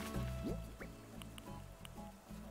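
Water running from a faucet item in the game Animal Crossing New Horizons, a soft liquid trickle with small drips, moderately close, over a busy game background with no talk.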